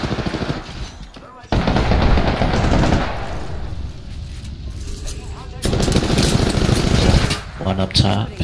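Hemlok rifle fire in a video game shooter, rapid loud bursts of gunshots in clusters with brief pauses between, close and punchy, mixed with game noise and a player talking over it.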